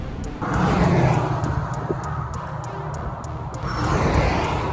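An RV cruising down a desert road, heard from inside as a loud, steady rumble of engine and tire roar that holds through the whole stretch with a faint rhythmic ticking above it.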